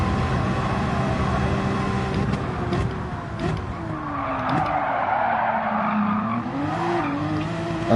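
Race car tires skid and squeal under hard, late braking into a hairpin in Gran Turismo 7, a loud, sustained screech with a wavering pitch over the engine drone, lasting the whole stretch with no talking.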